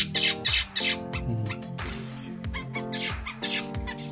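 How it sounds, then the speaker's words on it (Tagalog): Bird squawking close by in a series of harsh, sharp bursts with rattly tonal calls between, loud and repeated, with no talk over it. "Mabait ng ibon na to."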